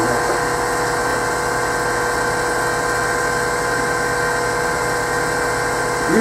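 Sandpaper pressed against a wooden Christmas ornament spinning on a wood lathe, a steady dense whir and hiss of motor and abrasive running continuously and close, with no pauses.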